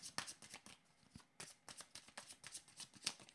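Tarot cards being drawn and shuffled from a deck, a quiet run of papery flicks and snaps in irregular quick bursts, close and soft with no voices.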